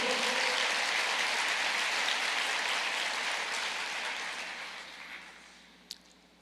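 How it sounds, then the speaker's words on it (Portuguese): A church congregation applauds, a dense wash of many hands clapping that starts loud, holds for several seconds, then fades gradually, with one sharp knock near the end. "Pode aplaudir o Senhor?"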